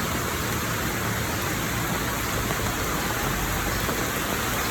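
Heavy rain pours steadily outdoors amid rising floodwater, a dense, unbroken roar of drops close by with no voices.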